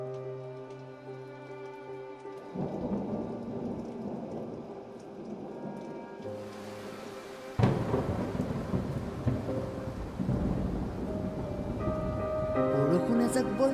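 Heavy rain with rumbling thunder and strong wind comes in a thick, rising wash, with a loud surge partway through. Soft background music plays throughout, and a voice speaks over part of it.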